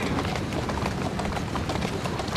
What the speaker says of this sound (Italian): Parte una carrozza che ti insegue.